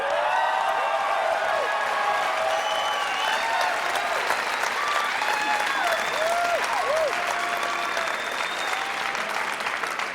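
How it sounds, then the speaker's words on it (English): Audience on the UCLA campus breaking into loud, sustained applause, with scattered whoops and cheers rising over the steady clapping for the full stretch. "A round of applause just for knowing what school I'm at."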